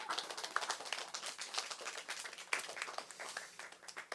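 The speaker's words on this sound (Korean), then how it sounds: "박수 한번 해주세요." An audience in a Bible lecture hall gives a short round of applause, a quiet, fairly distant patter of many hands clapping that runs steadily and then tapers off slightly near the end.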